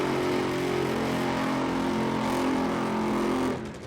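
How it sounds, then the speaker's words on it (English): Nitro Funny Car doing an unusually big burnout at the NHRA Four-Wide Nationals, a loud sustained engine roar with steady tire spin that holds for several seconds, then begins to fade near the end. "That's a whole lot bigger burnout than you normally see in a nitro machine."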